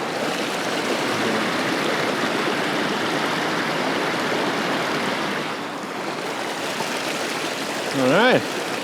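River water flows around a rock in the middle of the river, a loud, steady, close rushing wash that runs throughout, with a short voiced exclamation near the end.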